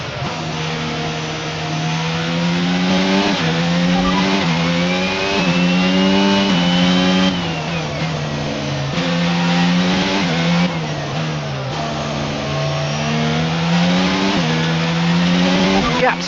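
Max Verstappen's Red Bull RB18 Formula 1 car at the 2022 Dutch Grand Prix: a loud, close engine screams through repeated rising and falling revs as it shifts through the gears, with short dips under braking.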